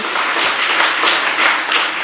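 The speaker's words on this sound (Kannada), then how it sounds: "ಅದಕ್ಕೋಸ್ಕರ ಒಮ್ಮೆ ಜೋರಾದ ಚಪ್ಪಾಳೆ ಬರಲಿ ಈ ಶಾಲೆಗೆ." Audience applause for a school, a steady dense wash of many hands clapping, loud and continuous with no talk over it.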